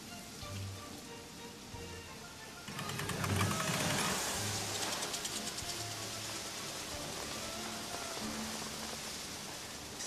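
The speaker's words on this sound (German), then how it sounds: "Regen verstärken." Rain in a German family comedy film starts as a steady hiss, then suddenly swells much heavier and stays dense, with a low rumble beneath it.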